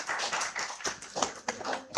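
Applause from a conference session audience at an IEEE event, a short burst of scattered, uneven hand claps at moderate volume, with no one speaking over it.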